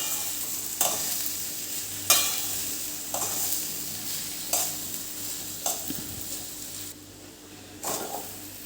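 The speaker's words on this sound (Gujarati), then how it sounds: "ગેસની ફ્લેમ સ્લો જ રાખવાની છે અને આને હવે શેકાવા દેવાના છે" Ground lilva beans roasting and being stirred in a pan over a low flame, with a soft steady sizzle and a scrape of the spoon roughly every second.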